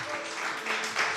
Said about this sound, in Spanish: Dale ese aplauso a Él.